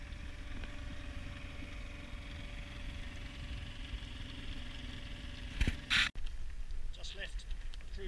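A sailing boat's engine hums in a steady, low drone on a glassy calm sea off Scotland, with a brief clatter and knock near the end; voices can be heard faintly over the engine.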